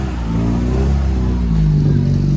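A car with a Toyota 2E engine fitted with headers idles and revs at a rallycross event, giving a loud, steady, throaty hum with rising engine tones close by.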